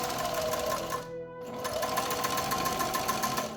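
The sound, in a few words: sewing machine stitching elastic, Velcro and webbing together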